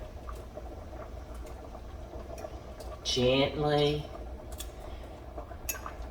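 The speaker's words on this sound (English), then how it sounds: "Can y'all hear it boiling?" Soup bubbles and pops steadily at a low level in a pot, while a person briefly says a word over it.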